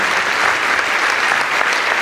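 A church crowd at a Christian convention in Concepción gives dense, loud, sustained applause, continuous clapping with no pauses.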